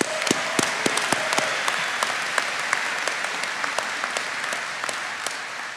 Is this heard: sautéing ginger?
no